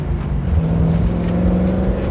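A 1950 Ford Custom Convertible's engine revs and pulls, a close, loud, rough drone that rises slightly in pitch over about two seconds, with no talking.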